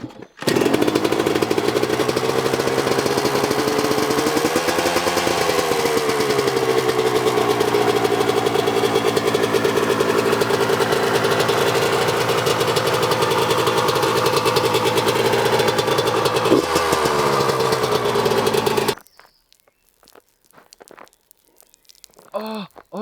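A small homemade car engine, a kit-built vehicle once made of cardboard, runs steadily and loudly with a droning, slightly rough hum for about nineteen seconds before cutting off, leaving quiet outdoor background.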